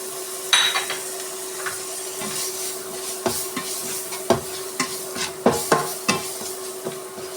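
Tomatoes tossed into a pan and stirred while making Kerala-style chicken roast gravy: repeated clattering scrapes of a spoon against the pan over a steady low sizzle, close and fairly loud, with no talking.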